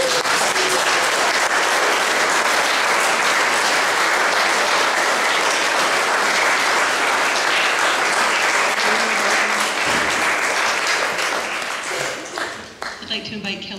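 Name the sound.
wedding guests cheering and applauding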